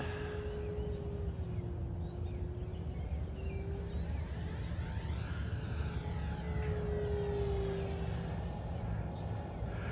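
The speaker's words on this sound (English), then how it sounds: "while, yeah, it's designed to be a short takeoff and landing airplane, it's also a very capable aerobat" An E-flite Super Timber 1.7m radio-controlled airplane performing aerobatics, its electric motor buzzing and rising and falling in pitch as it passes, moderately far off over steady outdoor noise.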